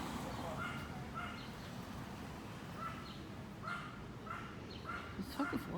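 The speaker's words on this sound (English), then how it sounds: "The dog is barking at me too." A dog barks from across the street, repeated short barks at a distance, fairly faint and spaced irregularly over steady background noise.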